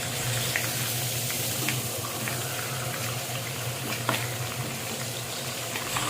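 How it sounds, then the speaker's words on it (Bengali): Pieces of rohu fish fry in hot oil, giving a steady, crackling sizzle that runs continuously at moderate loudness with occasional sharper pops. "মাছগুলো যখন ভাজবেন তখন অবশ্যই সাবধানে ভাজবেন যাতে করে মাছগুলো ভেঙে না যায়"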